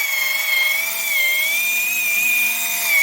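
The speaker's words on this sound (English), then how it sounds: "This little Dremel Versa tool, guys, I love this thing." A Dremel Versa power scrubber working over a TRX400ex ATV frame gives a loud, steady high-pitched motor whine, slightly wavering in pitch, running continuously and close up.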